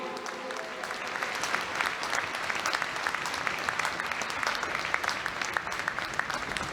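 Ice show audience giving a strong round of applause for the show's collaborators, dense, even clapping from a large crowd that swells in and continues steadily, fairly distant and reverberant.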